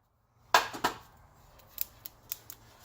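Snips cut electrical wire during installation of a two-circuit quad outlet: two sharp close clicks, then several lighter metallic ticks, alone in a quiet room.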